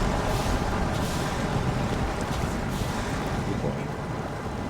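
A truck's second engine starts up in Snowrunner, giving a dense, continuous rumbling roar with broadband noise that holds steady throughout, loud and close.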